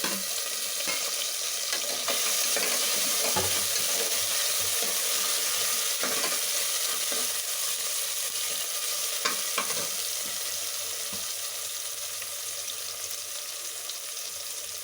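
A tomato is dropped into a pan of frying sambar base for potato and chickpea sambar, with steady loud sizzling and bursts of stirring scrapes throughout, no talking.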